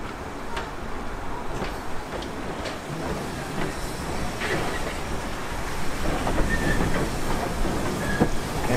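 Heritage train on the Mid Hants Railway (Watercress Line), a continuous broad rumble of rolling stock with faint rhythmic wheel clicks and squeals, moderately loud and swelling slightly toward the end, no talk.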